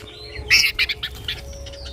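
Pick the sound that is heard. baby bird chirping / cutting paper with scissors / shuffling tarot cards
baby bird chirping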